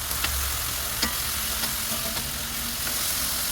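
Ground beef with taco seasoning mix stirred in a hot pan, a dense continuous sizzle with soft intermittent scraping from the spoon, close up and free of voices.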